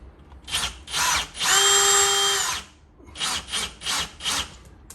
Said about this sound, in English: let me screw this down, this last piece, because remember I told you you want to secure your lines.